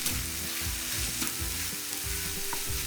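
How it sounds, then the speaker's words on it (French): Kimchi fried rice being stirred with a ladle in a hot pan after kimchi juice is poured in, a steady close sizzle with repeated scraping strokes in an even rhythm. "On y déverse maintenant le jus de kimchi et on remélange uniformément."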